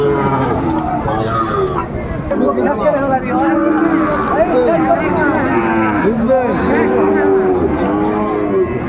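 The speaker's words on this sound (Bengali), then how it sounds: "শাহিওয়ালের ষাঁড় বাচ্চা আমরা দেখছিলাম" Young Sahiwal bull calves lowing repeatedly and loudly at a busy cattle market, their moos overlapping with crowd chatter and people talking nearby.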